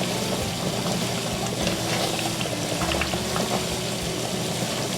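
Sweet and sour sauce at a full boil in a pan on the stove, a dense steady bubbling and sizzling with small pops, close and continuous with no talk.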